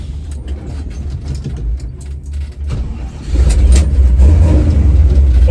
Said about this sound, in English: I'm just gonna roll her out on the road and restart it.